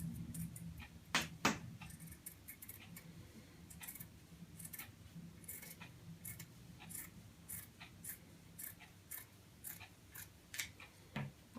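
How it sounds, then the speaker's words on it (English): Scissors cut material for an upcycled book bag, giving quiet, close snipping and rustling in an irregular series of short crisp strokes, with no one talking. "And then we'll cut it around the sides."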